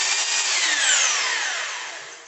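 Hammer drill switched to drill mode, its motor whine running loud and close and then gradually winding down in pitch and volume, with no speech.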